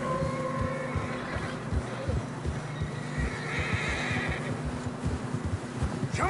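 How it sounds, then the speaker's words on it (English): Horses in a snowy mountain setting in the Red Dead Redemption 2 video game whinny and neigh loudly over a steady background of hooves plodding through fresh snow, with a continuous dense mix throughout. "Horses are getting tired."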